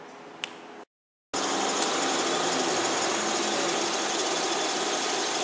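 Repaired Chery QQ engine idling steadily at close range after a short silent cut, a continuous even hum with no voices.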